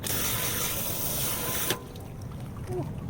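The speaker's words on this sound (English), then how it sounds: "So first step, he's gonna spray it off with water." A pressure water spray blasts dirt off car wheels during a test of an NT70 Auto wheel cleaning product, a loud steady hiss that cuts off abruptly partway through, followed by quieter outdoor background.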